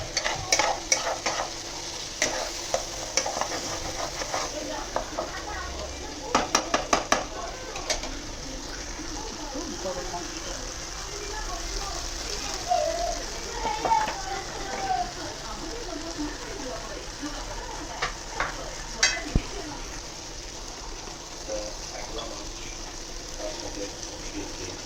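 Chicken curry stirs and fries in a pan with garam masala going in, giving a steady sizzle under repeated scraping strokes of the spoon. Birds coo faintly in the background, and a person speaks briefly.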